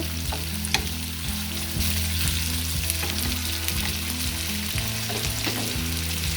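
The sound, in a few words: chopped tomato frying in a pan for chutney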